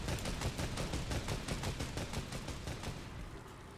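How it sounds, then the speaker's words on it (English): Rapid automatic gunfire in a zombie survival video game, a steady stream of loud, evenly spaced shots hammering away at a loot crate for nearly four seconds before easing off slightly at the end. "I'm gonna just destroy the crate then"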